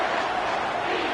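A college football stadium crowd roars behind the defense on a big third down at Georgia versus Clemson, a dense, steady wash of distant cheering without clear breaks.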